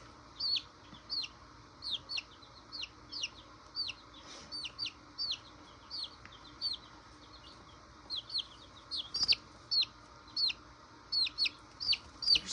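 A chicken clucks in short, repeated bursts close by, a steady series of soft clucks and chirps spaced through the stretch, with faint background hum and no talking.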